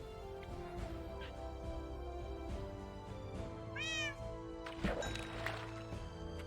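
Indoor cats meow, one drawn-out rising-and-falling call standing out clearly over low background hum, followed by a few fainter rustles and soft clunks.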